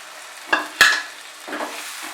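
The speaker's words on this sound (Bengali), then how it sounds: "30 সেকেন্ড মতো আমি এটাকে নাড়বো, খুব বেশিক্ষণ নয়, তবে ফ্লেমটা কিন্তু বাড়িয়ে রেখেছি" Cashew paste masala for a Bengali egg curry is stirred in a pan over a high flame: two sharp scrapes close together, then a softer stroke, over a faint sizzle, with no voices.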